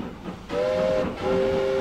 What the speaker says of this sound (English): the arrival of the train